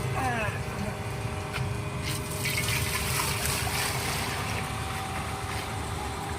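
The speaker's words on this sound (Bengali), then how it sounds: "জল দেওয়া হয়ে গেল, এক ডাম্বুল।" Water from a 20-litre container is poured into a large wok set on a big commercial wood-fired rocket stove, producing a steady close rushing and trickling pour that lasts throughout.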